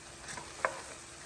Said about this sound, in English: Let me stir these just a minute, Melissa.